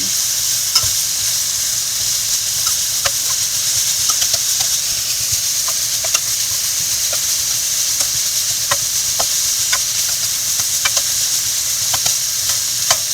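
Summer squash sautéing in oil in a pan, a steady close sizzle with light scrapes of stirring now and then, loud and continuous, no one talking.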